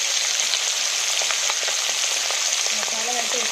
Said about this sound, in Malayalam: ഇനി നമുക്ക് ഇവരെ ഒന്ന് വറുത്ത് കൊടുക്കാം.